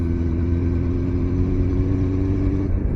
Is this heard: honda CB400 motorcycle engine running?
yes